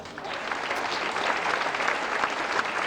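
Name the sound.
audience applause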